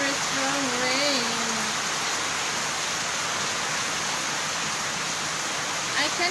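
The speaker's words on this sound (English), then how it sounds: "Oh no, very strong rain." Heavy typhoon rain pours steadily in Sorsogon City, a dense, loud wash of noise filling the whole stretch, with a brief voice speaking early on beneath the downpour.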